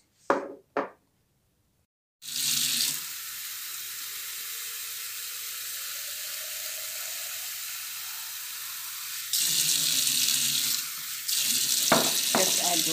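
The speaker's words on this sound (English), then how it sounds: "Just add water a little bit, try to soak them in the water." Tap water runs steadily into a jar holding fruit peels, a continuous close splashing stream after a brief knock, briefly louder near the end as the flow changes.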